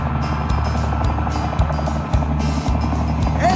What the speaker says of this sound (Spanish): Ese sonido es un helicóptero.